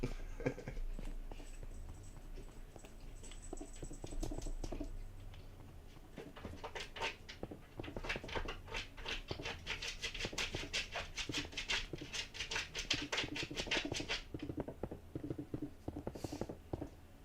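A small puppy digs at the floor, a quick, busy run of scratching and pattering claws that comes in bursts, faint and close-by with no talking.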